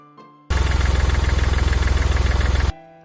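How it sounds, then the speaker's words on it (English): A farm tractor engine runs with a steady, loud, rhythmic chug for about two seconds, starting and stopping abruptly, with no talking. "Tractors are important farm vehicles."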